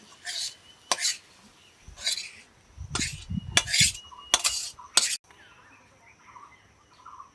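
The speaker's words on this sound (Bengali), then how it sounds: "এখন আমরা ঢেলে নেব" Cooked leafy greens with chaka prawns are tipped out of a pan, a series of separate metallic scrapes and clinks of a spatula against the pan, several sharp strokes with short pauses between them.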